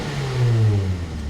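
Mazda NC Miata engine with a Racing Beat performance header, a single short rev that swells and falls back, loud and close.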